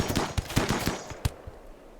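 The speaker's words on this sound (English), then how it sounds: "Sniper shot. Took that dude out." Rapid gunfire from a video game battle in Rimworld, with sharp cracks in an uneven burst and one louder shot standing out before the firing fades.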